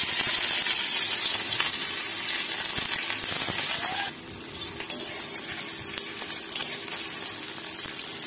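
Onions fry in a wok, a steady hiss and sizzle with light stirring scrapes that drops noticeably in strength partway through and carries on more quietly to the end.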